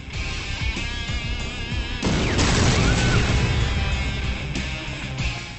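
Rocket fire and explosions in the Renegade video game: a loud burst erupts midway into a rumbling, crashing blast that sustains for several seconds over a busy game soundscape, with smaller pops and booms before and after.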